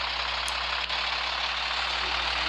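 Truck engine idling in Truck Simulator, a steady low drone with a constant hum and faint high hiss, even and unbroken, without talk.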